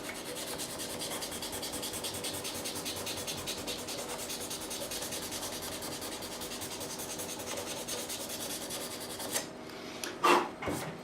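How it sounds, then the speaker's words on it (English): Sandpaper rubs back and forth on the fret area of a 1980s Antoria EG1935 Rock Star guitar, a fast, steady scratching close up, ending in a few knocks and handling sounds. "A little bit of sandpaper again."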